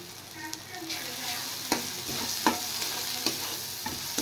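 Fried onion sizzles steadily in a pan as salt, turmeric and dried chili powder are stirred in. Sharp scraping stirs cut through the frying every second or so, and no one speaks.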